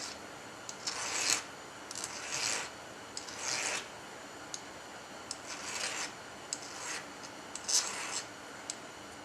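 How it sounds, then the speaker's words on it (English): A hand file rasps in repeated strokes along the edges of a stock being fitted, each a scratchy burst with short pauses between, close and fairly loud. "Take this file, file our edges off."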